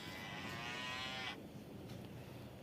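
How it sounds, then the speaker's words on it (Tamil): A water buffalo lows once in a 3D driving video game, a loud drawn-out moo lasting over a second, then quiet game ambience continues with no voices. "இந்த எரும மாடு தான்."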